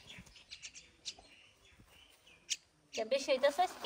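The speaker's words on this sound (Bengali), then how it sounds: "এই যে শালিক পাখি দেখো ফিড খাওয়ার জন্য কিরকম করতেছে।" Myna birds chirping eagerly while waiting to be fed, scattered short tweets at first, then a denser burst of loud calls near the end, with faint voices in the background.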